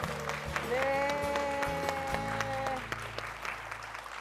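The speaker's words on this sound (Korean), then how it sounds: "박수 부탁드립니다." Applause from a church congregation as a testimony guest is welcomed at a worship event, a steady wash of clapping lasting several seconds, with a faint sustained musical tone and a voice underneath.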